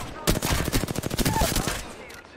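Rapid bursts of incoming blaster fire in Star Wars Squadrons crackle in a fast, evenly spaced volley lasting about a second and a half, loud and close, then trail off.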